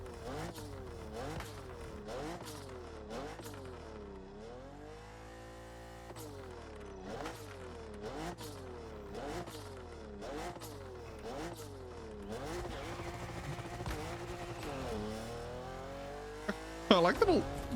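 Repeated rapid revving bursts from a car engine in The Crew Motorfest, with chirpy popping exhaust notes between shifts, continuous and fairly loud, ending in a squeal.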